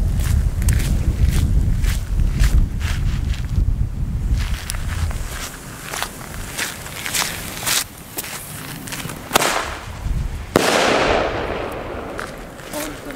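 Firework mortar tubes fire outdoors in a rapid, dense barrage of sharp cracks and booms, many overlapping bursts at close range, with a loud final blast near the end.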